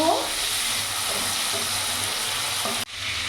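Prawns fry in a pan until reddish, giving a loud, dense, continuous sizzle up close that cuts out abruptly near the end before briefly resuming.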